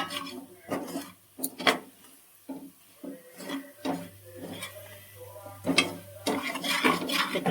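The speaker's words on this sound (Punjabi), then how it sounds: "ਇਹਨੂੰ ਚੰਗੀ ਤਰ੍ਹਾਂ ਆਪਾਂ ਮਿਕਸ ਕਰ ਲਵਾਂਗੇ" A spoon stirs homemade vegetable spice mix and coriander powder in a cooking pot for rajma. Close, irregular scraping and rubbing strokes repeat, with occasional clinks of metal against the pot.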